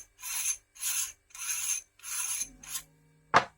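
A cap is unscrewed from a CNC-machined WELLPRO WE23 RGB airsoft tracer unit. Five short, close rasping twists come in a steady rhythm, followed by a single sharp click.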